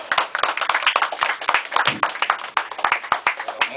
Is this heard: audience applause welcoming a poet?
yes